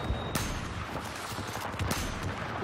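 Gunfire in a first-person shooter with a 338 Recon rifle: a sharp shot near the start followed by several more distant bursts over a dense, noisy battle background.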